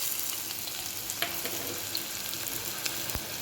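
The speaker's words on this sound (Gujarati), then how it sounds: "કાંદો તમારે થોડીક વાર સુધી ફ્રાય કરવાનો છે।" Chopped onion fries in hot oil inside a pressure cooker, a quiet steady sizzle with a few faint clicks and scrapes of stirring, no voices.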